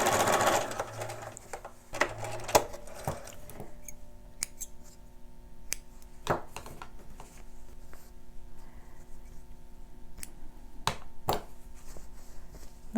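A sewing machine stitching fabric pleats on a 1/4 inch seam, whirring steadily up close at the start, then a quiet hum broken by sparse clicks and snips.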